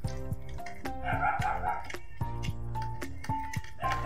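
A dog barks several times in short irregular bursts close by at home around dinner time, while people talk and household clatter carries on underneath.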